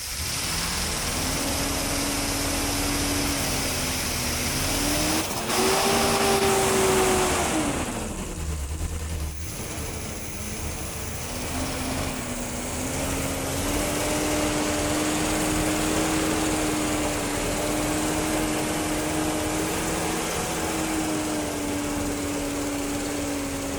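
A Corvette C3 big-block V8 runs at steady raised revs during camshaft break-in, a close, continuous rumbling drone with one brief rev swell early on and a slight dip before settling.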